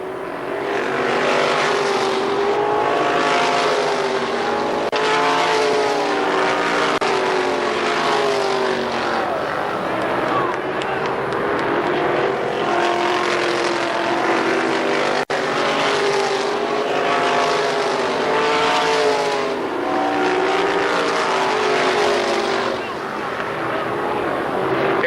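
Winged sprint cars race at Columbus Motor Speedway, a continuous loud roar of engines rising and falling as cars pass, with a race announcer talking over the noise throughout.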